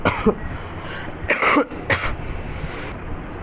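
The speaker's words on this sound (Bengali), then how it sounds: "সরি, কাশি উঠছিল।" A person coughs in three separate bursts near the microphone, a short one first and then two harsher hacks, with quiet room noise between them and no talking.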